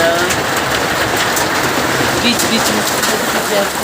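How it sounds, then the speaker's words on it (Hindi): Steady rain with hail falling outside a house, a dense continuous hiss of drops on surfaces heard from indoors, with someone speaking briefly over it. "मैं अंदर बैठी हुई बाहर बारिश में ओले शायद आपको दिखते हैं बीच में ओले।"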